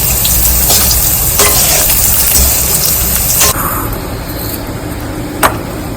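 Loud, steady sizzle of leftover rotis frying in hot oil, continuous and close, with a sharp click near the end.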